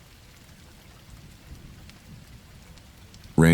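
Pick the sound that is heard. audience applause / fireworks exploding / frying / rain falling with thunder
rain falling with thunder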